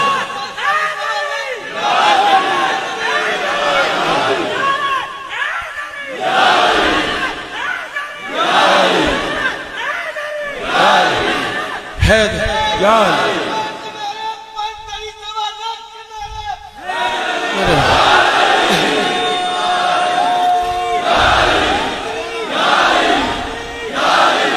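A crowd at a religious gathering shouts a response to a chanted religious slogan, repeated rhythmic mass shouts alternating with a leader's amplified calls, loud and reverberant.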